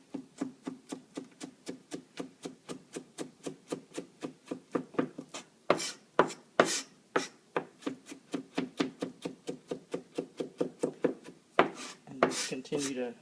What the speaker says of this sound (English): Continue to pile them into a pile and chop until they're all nice and small